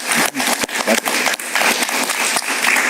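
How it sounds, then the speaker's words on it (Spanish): Studio audience applause for a guest arriving on a Spanish-language talk show, a steady broadband wash of clapping lasting the whole stretch without pause. "Un aplauso para él."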